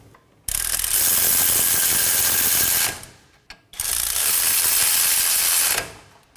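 A ratchet snugs down the two 22mm bolts on the front CV axle of a 2015-2023 Nissan Maxima 3.5L V6, two long loud bursts of rapid clicking separated by a brief pause, close up, no talk.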